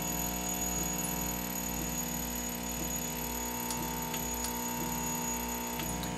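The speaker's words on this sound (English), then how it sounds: "that was the alarm for the last session" A timer alarm goes off during hot air reflow of a Dell Inspiron M5010 GPU, a repeating electronic beeping pattern over the steady hum of the hot air gun, with a few sharp clicks.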